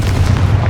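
A Confringo explosive spell blast from the Hogwarts Legacy video game lands as a heavy, booming rumble, loud and close, filling the short moment.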